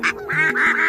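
Cartoon ducks quack and honk loudly at night in a bamboo grove setting, several nasal calls in quick succession close by.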